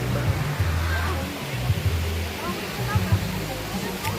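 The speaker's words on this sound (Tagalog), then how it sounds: "malaking sapa po dito" A large stream rushes along in a continuous broadband roar of flowing water, steady and close, with a faint voice speaking underneath.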